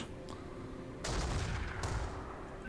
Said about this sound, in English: this artillery we really must get out of the game